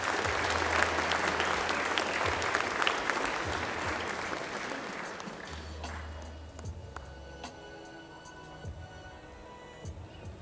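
Sustained audience applause at a high school rose-pinning ceremony in Brodnica, Poland, loud and dense at first, then thinning into scattered claps toward the end, with no talk over it.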